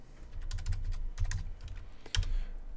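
Quick bursts of keystrokes rattle on a computer keyboard, close and fairly quiet, in two uneven runs separated by a short pause, with no voices.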